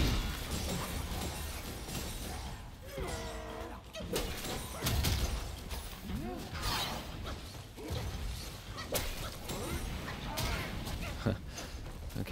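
Bursts and crunchy explosive pops of enemies exploding in Black Myth: Wukong, layered with whooshes and synth effects, running continuously beneath a player's voice.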